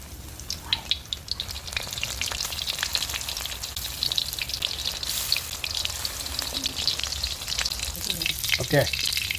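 Shrimp deep-frying in hot oil until crispy, a loud, busy crackling sizzle with sharp pops and a clatter of utensils near the end, close by, with no speech.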